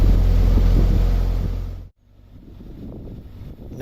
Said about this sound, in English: The wind is blowing quite strong today